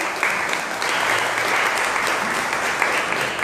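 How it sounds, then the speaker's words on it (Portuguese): An audience at a talk event claps warmly to welcome someone speaker, dense sustained applause from a crowd filling the room from start to finish. "Vamos recebê-la com uma calorosa salva de palmas."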